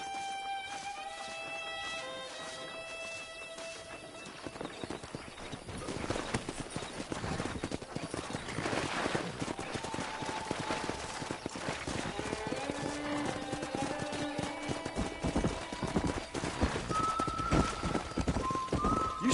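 Horse hooves clip-clop in the Red Dead Redemption video game, a brisk, steady trot of close hoofbeats under a melodic music score, with the pace and loudness building after the quieter opening.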